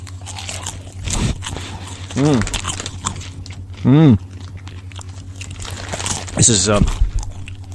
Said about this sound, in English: Why use humor and words in a podcast when you just eat popcorn?